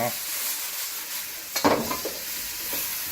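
Beef and ginger frying in a pan on a stove set to medium, a steady close sizzle with a brief louder burst of crackle and stirring partway through.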